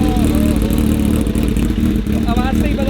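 A Kawasaki Ninja H2 supercharged motorcycle with a full Brocks exhaust system runs close by with a deep, throbbing engine note, and voices talk over it.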